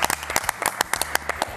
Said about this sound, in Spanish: tamén vou pedir un aplauso por compensar